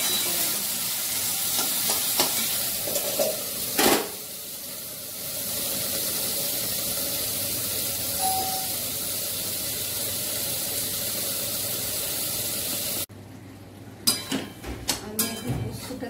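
Okra and poppy seed paste frying in a pan, a steady hiss of sizzling with occasional stirring clatters, ending in a few sharper scrapes and knocks.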